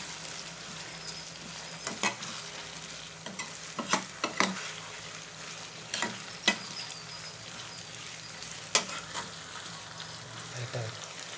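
Capsicum sautés with curry leaves in a pan for chilli meal maker, giving a continuous soft sizzle broken by scattered sharp spatula scrapes and taps at irregular intervals, close by and without talk.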